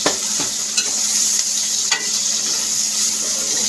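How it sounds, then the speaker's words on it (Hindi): Onion, garlic and ginger paste fries for aloo gobhi, a loud, close, continuous sizzle broken by a few scraping stirs in the pan. "तो इसको मैं 1 मिनट के अंदर भून लूँगी अच्छी तरह"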